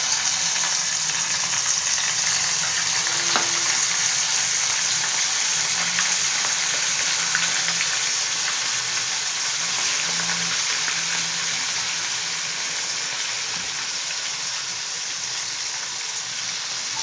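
Small marinated fish pieces fry in a hot pan with a steady, even sizzle and crackle that holds at a constant level throughout, with no voices.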